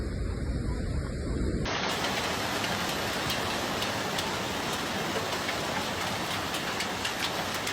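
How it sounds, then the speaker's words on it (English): Heavy rain and hail pour down during a hailstorm in Adana, Turkey, making a dense, unbroken roar of noise that carries on for several seconds. "Heavy rain and hail turned the streets into rivers, sweeping away everything in their path."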